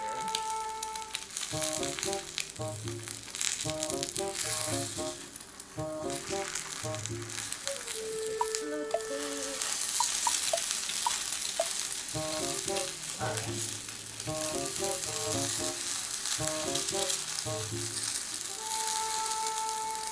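An egg with its yolk broken cooks in a hot pan, a steady crackling sizzle running throughout alongside music with a repeating melodic pattern, and no talk.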